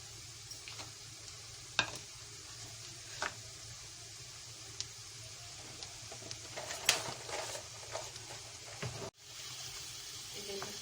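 Whole red chillies and cumin seeds sizzle in hot oil, a steady close hiss broken by occasional sharp pops and light stirring clicks, with no talking.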